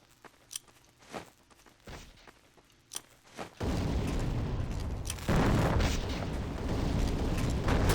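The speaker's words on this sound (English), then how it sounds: "now I'm just gonna throw seismic grenades at it to destroy it" Seismic grenades from the video game Empires going off: a few scattered thumps and footsteps early, then a sustained loud, rumbling roar of blasts and debris that swells further partway through and continues to the end.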